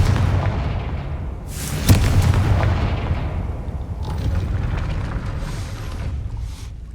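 A Confringo fire spell from Hogwarts Legacy detonates as one loud, sharp blast near the start, then a rumbling roar trails off under lingering crackle and low noise.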